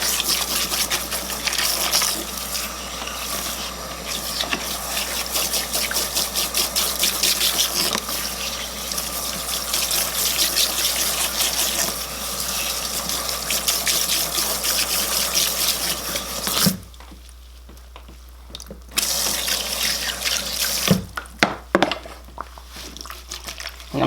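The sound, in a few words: tap water running while rinsing shampoo from hair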